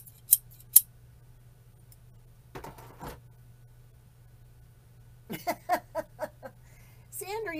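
Two sharp metallic snips of large scissors, then a few scattered clicks and rustles, with people talking briefly over a low steady hum.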